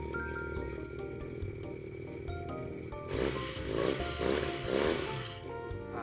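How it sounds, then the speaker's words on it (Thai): Stock factory exhaust of a 2022 GPX Legend 250 Twin II motorcycle: a steady idle, then a few throttle blips swelling louder from about the midpoint, with no talk. "มาฟังเสียงท่อเดิมจากโรงงานกันหน่อยนะฮะ"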